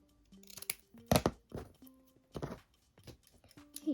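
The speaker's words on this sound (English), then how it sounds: "I'm just going to trim off this excess" Scissors trimming excess ribbon while making a hair bow, a few quick close crisp snips and crunches over a quiet background.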